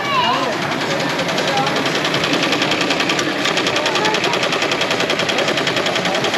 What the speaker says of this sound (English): There's the embroidery machine.